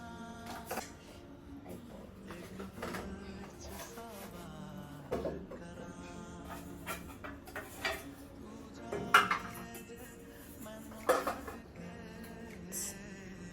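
Kitchen bowls clink and knock while being handled and put away during small-kitchen organising, with scattered light clatters and a few sharper knocks against quiet background.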